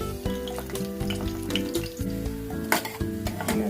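Garlic and cumin sizzle as they drop into hot oil for a tempering for Nellore gongura pachadi, a soft crackling frying sound running beneath steady background music.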